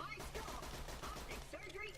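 A Twin Hornet gun in Borderlands fires a rapid burst of close, sharp gunshots that continue without pause through the short stretch, loud and crackling.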